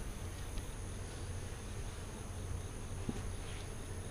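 Honey bees at their hive make a steady, even buzz that runs the whole time, close and moderately loud, with a faint brief tick near the end and no voices.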